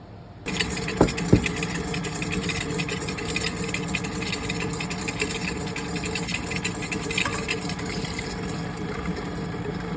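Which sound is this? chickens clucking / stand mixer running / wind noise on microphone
stand mixer running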